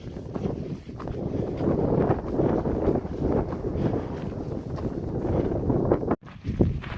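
Strong gusts batter the microphone on a windy Colorado mountain hike near a 13,794-foot summit, a loud, continuous roaring rumble with surges and one brief dropout near the end, with no talking.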